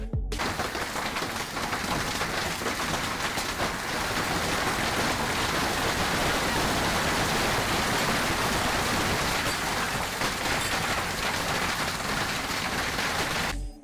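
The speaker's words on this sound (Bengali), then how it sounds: "শিলাবৃষ্টি যে এত দ্রুত আকাশ থেকে পড়তে পারে সেটা আমার আগে জানা ছিল না।" Hail pouring down fast during a severe storm, a dense, steady roar of impacts that stays loud and unbroken from start to finish, with no voices.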